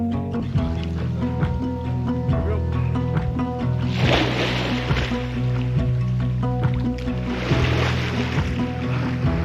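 Someone swims and splashes in the water of Bowman Lake, with bursts of loud splashing over a constant low rumble heard close up.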